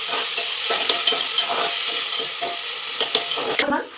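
Ginger paste stirred and fried in a pan at home, a loud continuous sizzle with repeated close scrapes of a spoon against the pan in an uneven rhythm, no voices.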